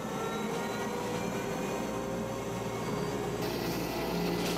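Bell Boeing V-22 Osprey tiltrotor aircraft in flight, a steady, fairly faint engine and rotor drone that holds constant throughout with no speech.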